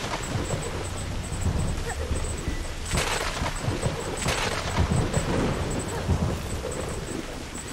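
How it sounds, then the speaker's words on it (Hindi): Rain and thunder in the video game Kena: Bridge of Spirits: a steady hiss of rainfall with low rumbling thunder rolls and sharper crackles near the middle, under a faint high-pitched chiming tone. "बारिश शुरू हो गया भाई"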